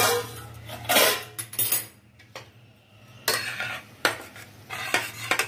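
A lid clatters off a pot of carrot masoor dal on a low stove, with clinking metal and scraping strokes in several close, sharp bursts and quieter gaps between them.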